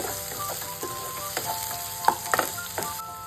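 Capsicum pieces frying in oil crackle with a close, steady sizzle and a few sharp pops as they are stirred in the pan.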